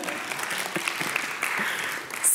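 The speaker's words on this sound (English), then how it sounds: "please clap for him" Audience applause at a conference talk on cash transfers, a steady dense wash of clapping from a crowd filling the whole short stretch, with no speech over it.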